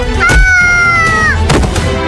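An animated cartoon cat gives one drawn-out meow that rises and then falls. Brief thumps and scuffles come before and after it, and the sound is loud and close.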